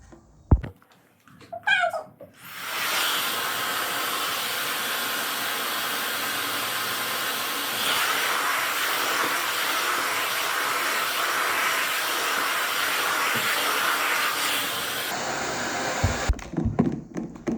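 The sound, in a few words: hair dryer blowing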